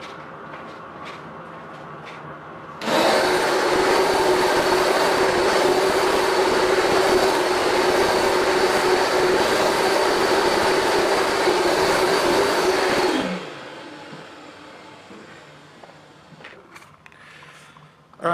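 A Rug Doctor Mighty Pro X3 or Bissell DeepClean ProHeat carpet cleaner runs over carpet, a loud steady motor roar with broad whooshing suction that starts abruptly, holds for about ten seconds, then winds down.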